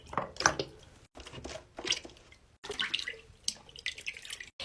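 Small mini fidget toys are rinsed under running water, giving close, quiet splashing and dripping in short irregular bursts with brief gaps between them.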